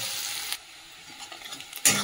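Chopped onion frying in oil with black cumin in a home kitchen pan, a soft steady sizzle with a sharper burst of hissing near the end as the pieces are stirred.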